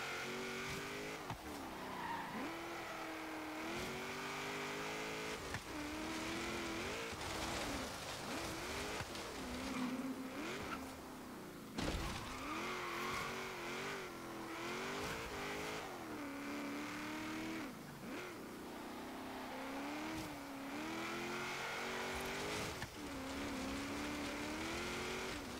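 A 1992 Toyota Celica GT-Four RC ST185 driven hard on an autocross course, its engine revving up and down continuously with frequent tire squeal, close and loud for the full run.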